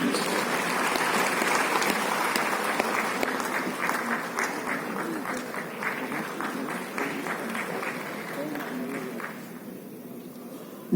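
Audience at a CPWD foundation day ceremony gives sustained applause, many hands clapping steadily for about ten seconds before fading near the end.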